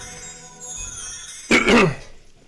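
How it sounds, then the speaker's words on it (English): A single gruff throat clear, one short raspy burst close to the microphone, heard after a quieter stretch of low background hum. "I'll clear my throat because it was getting a little rough."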